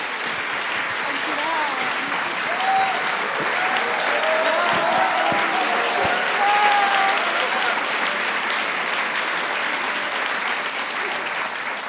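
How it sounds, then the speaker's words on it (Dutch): Warm, steady applause from a theatre festival audience, dense clapping filling the hall continuously with faint voices mixed in underneath. "Maar graag eerst een warm applaus voor Tobias Kokkelmans en Farnoush Farnia."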